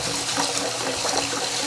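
Tap water running steadily into a bowl of rice being rinsed, a continuous close hiss and splash of filling liquid with no pauses.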